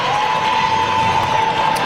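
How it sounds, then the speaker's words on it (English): Crowd applause and cheering at the close of a boys' prep basketball tournament game, a steady continuous wash of clapping filling the gym for the whole moment, with a sustained tone running underneath. "And now the applause coming."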